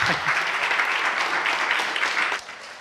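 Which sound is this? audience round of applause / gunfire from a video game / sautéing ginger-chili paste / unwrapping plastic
audience round of applause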